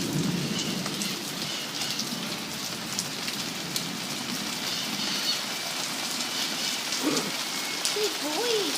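Heavy, steady thunderstorm rain pours in Miami, Florida, a dense unbroken hiss of drops on surfaces throughout, with a low rumble of thunder underneath and brief faint voices near the end.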